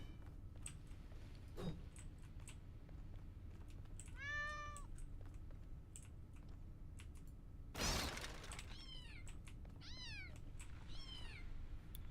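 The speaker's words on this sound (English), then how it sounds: "Kitty." Cat meowing inside the video game The Talos Principle Reawakened, several separate rising-and-falling meows spread across the stretch, fairly clear over a steady low background hum, with one sharp crash-like burst in the middle.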